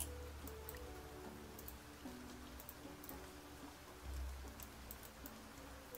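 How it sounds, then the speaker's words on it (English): Soft, steady rain patters in Niche: Legacy of Aurora, a faint even hiss with light drips and a low background hum, with no voices. "And it's raining."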